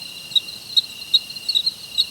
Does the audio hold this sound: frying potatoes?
no